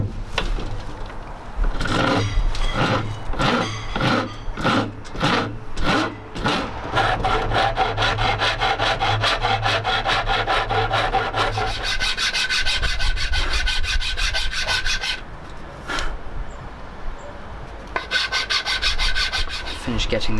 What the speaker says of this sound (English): Getting the shape of the neck done.